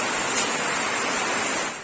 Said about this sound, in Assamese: বৰষুণ দিলে